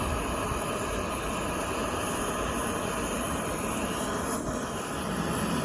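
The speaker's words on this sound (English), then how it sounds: "Plus we had some planes going by." Airplanes pass overhead at a campsite, a loud continuous roar with a high whine, broad rumble, no break in the noise.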